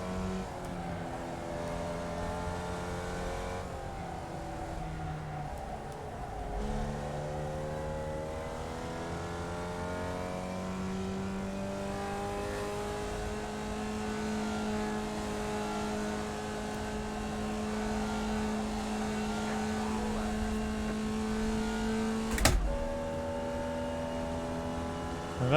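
Simulated race car engine in the iRacing game, a steady loud drone whose pitch climbs and falls with gear changes through corners, with a brief sharp spike near the end.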